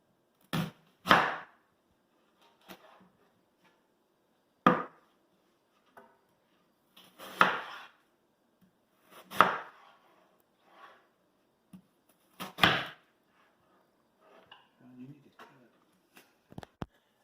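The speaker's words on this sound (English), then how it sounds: "I'll start dicing the onion" A knife dices half of a large onion, giving sparse, irregular sharp chops against a cutting board, about eight distinct hits spread over quiet gaps, close and clear.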